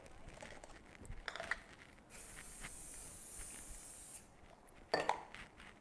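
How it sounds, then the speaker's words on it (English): A short, steady spray of cooking spray onto a baking tray hisses for about two seconds, close and quiet, between soft handling and rustling noises. "Cooking spray."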